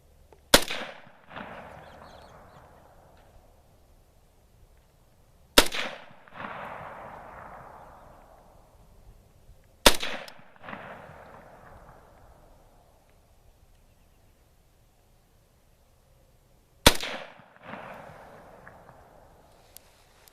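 Four sharp, loud gunshots from an AMD 65 Hungarian AK rifle fitted with a muzzle brake, spaced irregularly several seconds apart, each followed by a long rolling echo that fades out.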